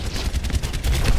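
A short burst of rapid automatic gunfire from the shooter game Overwatch, quick evenly spaced shots crackling at moderate loudness for about a second.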